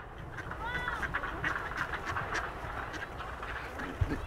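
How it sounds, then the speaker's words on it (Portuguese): Ducks quack in a busy cluster while being fed, repeated nasal calls over a murmuring outdoor background, with faint voices nearby. "Dando comida pros patos."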